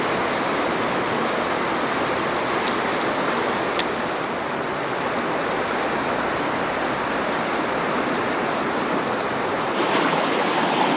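Creek water flowing through a low desert canyon, a dense continuous rushing wash heard close and loud, steady for the whole stretch with no voices.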